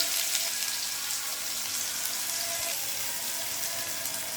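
Chopped onion going into a hot pan for a coriander masala patty filling, giving a continuous bright, hissing sizzle at a fairly even level with no talk.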